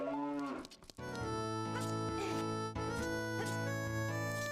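Cow mooing in the video game The Legend of Zelda: Ocarina of Time, a long, drawn-out low moo that rises and holds clearly over a sustained musical background, loud and close.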